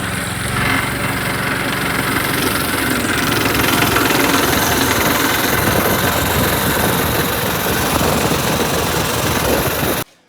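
A cheap restored minibike's small engine runs steadily at a loud, close idle for about ten seconds, then cuts off abruptly at the end; no voices.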